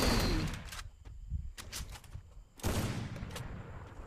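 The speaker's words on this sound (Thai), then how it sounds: "ปืนกล" Machine gun fire in the battle royale video game Free Fire, coming as loud rapid bursts broken by short quiet gaps, with one long burst filling the final stretch.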